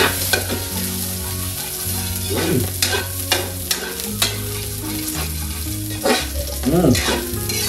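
Chopped onions sauté in a hot pan, sizzling steadily up close while a utensil scrapes and stirs through them in repeated strokes, with no voices.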